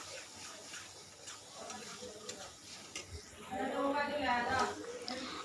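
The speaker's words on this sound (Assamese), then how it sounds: "এইখিনি ভালদৰে ভাজি লৈ আছোঁ" Gentle sizzling and stirring of wild taro (kochu) greens frying in a pan with occasional scraping, while a voice talks over the cooking noise.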